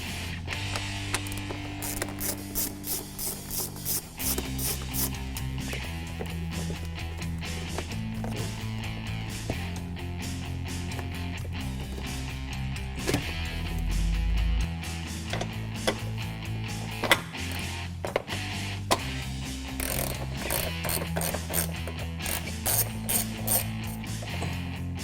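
Quick ratchet clicks loosening bolts on the factory air intake of a 2015-2017 Ford Mustang EcoBoost, buried beneath loud continuous background music with a steady beat throughout.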